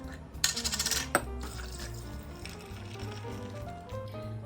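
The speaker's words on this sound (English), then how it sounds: "Then you're gonna pour this over your glass of ice here" Coffee for a cold foam drink is poured over a glass of ice, with a burst of clinking ice followed by a steady close pour.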